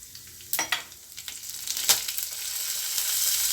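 Cumin and fennel seeds frying in a pan for chana masala, a steady sizzle with a few sharp crackles and pops near the start, close and fairly quiet, no voices.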